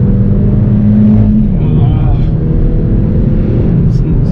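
A Hyundai i20N's engine drones loud and close from inside the car on a road, its pitch holding then shifting as revs climb, with a continuous rumble throughout.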